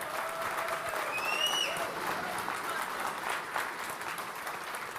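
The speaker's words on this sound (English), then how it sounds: "let's have a round of applause for the entire crypto data team" A crowd at a live performance event in Mumbai applauds in a dense, sustained roar of clapping, with a faint whistle rising in the middle and some cheering.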